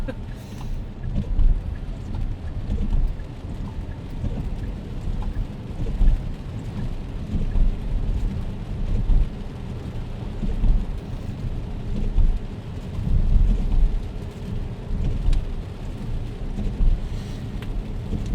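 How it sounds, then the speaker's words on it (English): A steady low rumble of a car driving at night on wet roads, with a constant wash of rain and tire hiss filling the background. "Nice evening drive in the rain."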